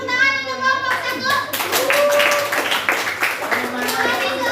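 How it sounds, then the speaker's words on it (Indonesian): Students in a classroom clap together for a group that has just finished, with a voice and other chatter audible over the clapping throughout. "kasih tepuk tangan untuk kelompok 1."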